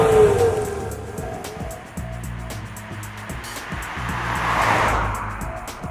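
A 2015 Subaru WRX drives along, its engine humming steadily up close and shifting through gears, with tyre and road noise swelling and a brief whoosh of passing air.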